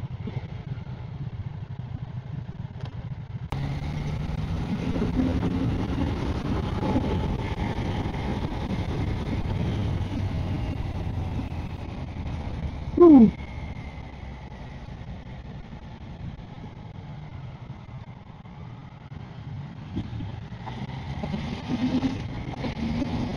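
A Triumph Tiger Sport 800 three-cylinder touring motorcycle being ridden, a steady engine drone with shifting pitch under heavy wind buffeting, one brief louder blip midway, no voices.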